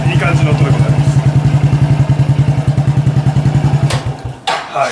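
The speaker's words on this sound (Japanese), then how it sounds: "ボンバーマフラーがいい感じの音でございます。" Honda Cross Cub 110 motorcycle fitted with a Bomber aftermarket muffler, idling steadily with a loud, close, rhythmic low exhaust pulse for about four seconds before a brief blip and cut.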